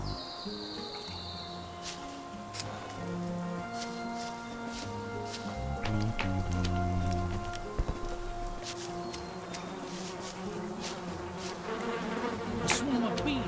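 A swarm of bees buzzes steadily in a video game, a dense droning hum running the whole time over game music and clicking effects, moderately loud with no speech.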